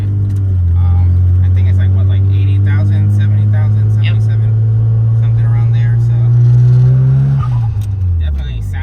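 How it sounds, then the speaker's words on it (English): A turbocharged Mazda RX-7 with a Blitz blow-off valve holds a loud, steady engine drone for several seconds, then the revs drop sharply near the end with a brief hiss. "Definitely sounds like your classic turbo noises everybody's always after"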